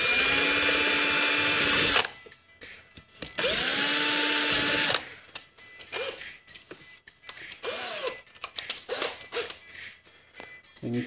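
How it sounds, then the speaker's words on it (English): A power drill with a 1/8-inch bit pre-drills holes in plastic trim, whining in two close, loud bursts of about two seconds each, followed by quieter clicks and handling noise. "you always want to pre-drill it"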